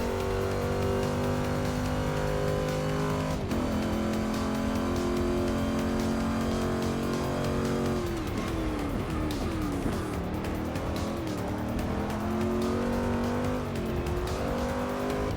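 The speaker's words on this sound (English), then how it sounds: "I believe this is another global touring car we're coming up on." Global touring race car in Forza 6 at Catalunya, its engine droning loud and steady with shifting gear pitch, a brief tire scrub midway and another car approaching to be passed.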